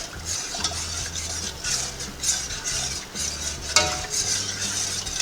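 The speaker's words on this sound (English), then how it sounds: "Just stir it up." A vegan mint jelly mixture with pectin stirred in a pot, a spoon scraping and tapping the sides in uneven strokes over a soft bubbling hiss, close by with no talking.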